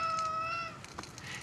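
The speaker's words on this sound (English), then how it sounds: "Cat probably just wants to play or wants additional breakfast." A cat gives a single drawn-out, tonal meow close by indoors, followed by soft rustling movement.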